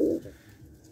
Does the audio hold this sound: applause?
no